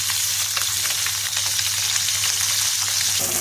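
Two pieces of fish fry in oil in a small wok, giving a dense, even, close crackling sizzle that holds steady for the whole stretch without talk.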